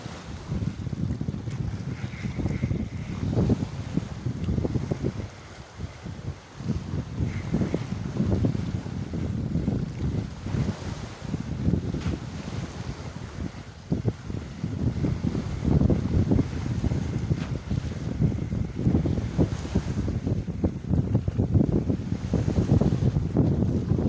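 Strong wind buffets and roars steadily across the microphone for the whole stretch, with a rumbling low wash like water against a boat.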